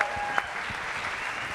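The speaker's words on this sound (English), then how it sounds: "round of applause" Brief audience applause during a sports and fashion panel event, a soft steady wash of clapping heard at a distance for a moment.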